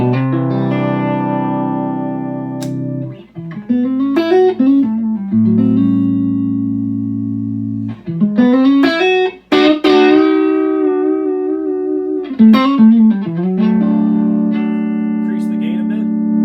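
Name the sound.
guitar through Feather 5 pentode preamp, high mode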